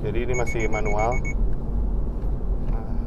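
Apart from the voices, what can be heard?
Subaru BRZ EyeSight obstacle warning beep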